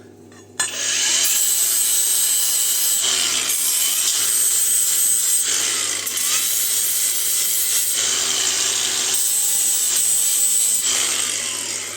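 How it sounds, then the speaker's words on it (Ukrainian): Angle grinder working on metal, cleaning and cutting while building a rotating painting stand, a loud continuous abrasive whine that runs nearly unbroken for about eleven seconds after a sudden start, with brief dips in pitch as the disc loads. "Цією болгаркою зачищаю, цією відрізаю"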